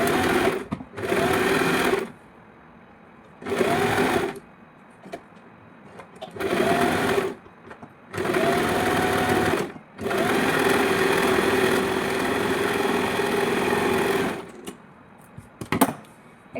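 A sewing machine stitches lining fabric onto a net frock sleeve in repeated runs of steady whirring, short bursts and one longer stretch, separated by brief pauses, close and alone.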